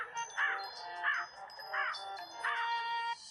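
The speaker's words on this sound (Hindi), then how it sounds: "जाओ पता करो कि ये कौवा आखिर चाहता क्या है" A crow caws four times at a steady, evenly spaced rhythm, the harsh calls moderately close and clear against a quiet background, with no talking.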